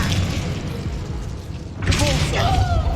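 A fire spell blasts out in the Hogwarts Legacy video game, with a whooshing, crackling burst of flame that swells after a stretch of rumbling game ambience, loud and close.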